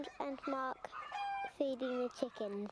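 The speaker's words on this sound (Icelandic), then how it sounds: "Þeir eiga fullt af hænum." Cartoon hens on a farm cluck in quick, stepped bursts, several close calls running back to back with brief gaps, loud and lively in the foreground.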